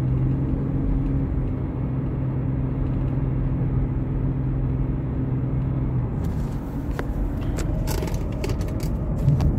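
A 2003 Chevy Monte Carlo with a new transmission and a shifting fault idles with a steady low engine rumble and hum, and mechanical clicks and rattles come in near the end as the gears are shifted by hand.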